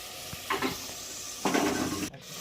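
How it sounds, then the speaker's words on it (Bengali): Pieces of fried chicken dropped onto a thick, spicy Bengali chicken curry gravy in a pan, giving two short bursts of sizzling and stirring with a soft steady hiss underneath. "তারপর ভেজে রাখা চিকেনগুলো তুলে দেবো গ্রেভির উপর।"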